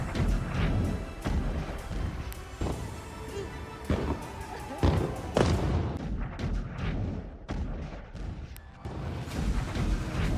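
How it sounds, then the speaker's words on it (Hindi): A rapid series of heavy booms and blasts from ballistic missiles striking Israel, some sharp and some rumbling, repeating irregularly and loudly, with no talking. "जोरदार धमाके की आवाज से आसमान थर्राया"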